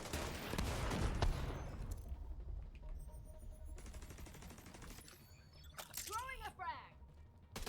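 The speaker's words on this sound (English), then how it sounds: "Bro, I have to shoot you now." Gunfire from The Division 2, heard as dense rapid bursts of automatic fire at the start that fade into scattered shots and electronic game effects, with a voice talking over part of it.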